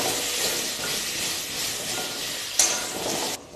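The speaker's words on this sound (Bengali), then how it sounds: "এবার কেটে ধুয়ে রাখা আলুগুলোকে লাল লাল করে ভেজে নেব।" Potatoes frying in hot oil with turmeric and salt in a wok, giving a steady close sizzle and hiss with soft stirring scrapes and a brief sharper crackle near the end.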